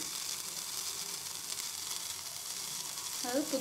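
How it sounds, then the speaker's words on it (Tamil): Water with mint leaves and ginger boils for mint tea, giving a steady, even hiss and bubbling that holds at moderate volume throughout, with a faint clink near the end. "புதினா கலர் மாறுற வரைக்கும் கொதிக்கட்டும்."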